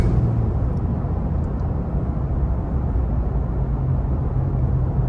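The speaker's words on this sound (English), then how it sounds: "Pretty cool to go through this tunnel on a motorcycle." Motorcycle riding through a tunnel, a steady, dense engine and road rumble filling the enclosed space, continuous and unbroken throughout.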